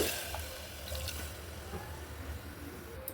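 Water poured into washed rice and lentils in a pot for khichuri, a steady running, splashing pour that lasts throughout at moderate loudness with no talking.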